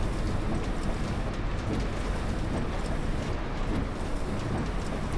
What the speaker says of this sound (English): the rain bouncing off the roof of the bus